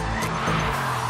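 Tyres squeal loudly as a Mercedes-AMG E63 makes a launch control start, engine roaring underneath in one continuous, close burst.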